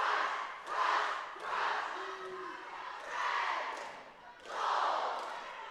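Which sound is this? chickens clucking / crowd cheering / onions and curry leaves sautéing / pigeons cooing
crowd cheering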